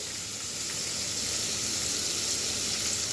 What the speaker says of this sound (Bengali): দেখো পেঁয়াজটা ভেজে নেব অল্প করে